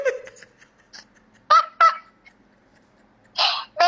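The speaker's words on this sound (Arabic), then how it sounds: "كسبت ديك اهو، كسبت ديك." A rooster lets out several loud, harsh squawking calls in short bursts separated by quiet gaps, close by and alone with no talking.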